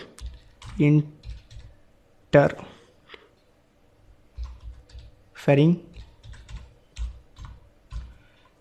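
Typing on a computer keyboard while entering a name in Microsoft Project software, with scattered clicks and short bursts of keystrokes under a voice talking intermittently.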